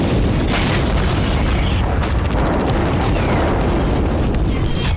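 Russian missile strikes hit Ukrainian areas near the Polish border, producing a loud, sustained blast rumble with sharp booming bursts throughout.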